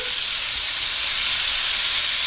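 Steak browning in a hot pan for Swiss steak, a steady bright sizzle that hisses evenly throughout, close and unbroken.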